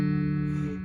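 A brief sustained guitar note from a song's riff, played alone on a single plucked string that rings clearly and close, then begins to fade.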